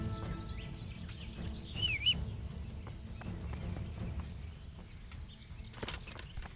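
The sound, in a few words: horse in the video game Kingdom Come Deliverance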